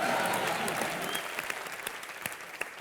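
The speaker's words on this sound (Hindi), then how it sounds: "जोरदार तालियां।" A television studio audience on a comedy talk show gives loud applause that tapers off into scattered claps, close and without talk.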